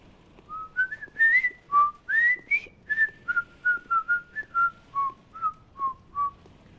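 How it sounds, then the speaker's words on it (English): A person whistles the tune I'm a Little Teapot while passing werewolves in Bloodborne, a clear, close melodic run of about fifteen distinct notes with a slightly breathy tone, and no talking. "I just whistled I'm a little teapot as I was going by to look extra inconspicuous"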